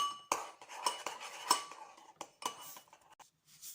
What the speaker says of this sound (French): Je vous conseille de touiller avec une cuillère pour que ça se dissout beaucoup plus vite.